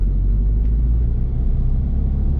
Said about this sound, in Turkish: Birinci vitesteyiz. Ayağımızı frenden çekiyoruz. Gaza bastığımız gibi.